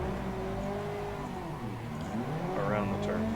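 A drift car in Assetto Corsa, sliding through the Minami track, holds a steady rev with the throttle rolling back on, the engine note rising and wavering near the end while a voice talks over it.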